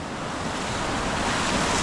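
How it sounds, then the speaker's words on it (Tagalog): Big ocean waves roar and wash continuously on a beach in Ras Al Khaimah, UAE, a loud, full surf rush mixed with wind buffeting, no voices. "Ang lalaki ng alon, guys."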